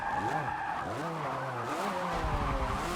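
Tires skid and squeal as a racing car ploughs off-road through sand wastes in Forza Motorsport 7, with whining pitch sweeps from the engine and a low rumble that grows heavier near the end, loud and continuous.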